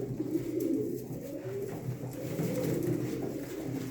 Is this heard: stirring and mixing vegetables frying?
no